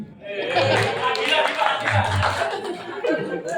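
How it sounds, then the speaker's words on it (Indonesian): An audience at a school peace-program gathering in Pekalongan gives a round of applause: a short, dense burst of clapping with chuckles and chatter mixed in, sustained at even loudness. "Kasih aplaus dulu."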